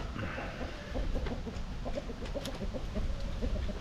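Chickens cluck steadily in a coop, several birds overlapping in a busy, continuous murmur of short calls at close range.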